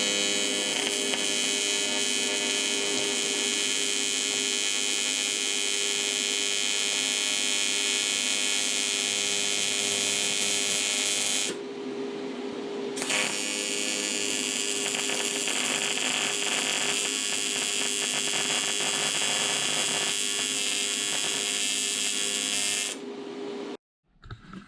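A TIG welder tacks an aluminum radiator being fitted to a Barracuda. It gives a loud, steady electric buzz that breaks off briefly twice and then cuts out at the end.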